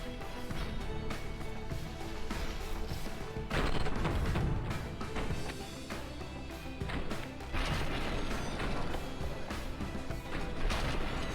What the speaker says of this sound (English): looks like that cannon fire might hit us too.